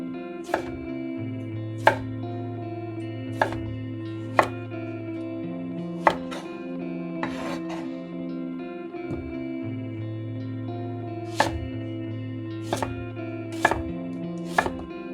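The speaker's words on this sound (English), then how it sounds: "Slice the cucumbers using a diagonal cut, not too thin, to maintain their texture." Knife slicing cucumbers on a diagonal for a Korean cucumber salad, giving a series of crisp, close chops in an irregular rhythm over soft background music.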